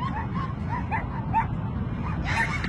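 Dogs at a riverbank bark and yip repeatedly in a quick, uneven series, close by, with a louder burst near the end over steady outdoor rumble.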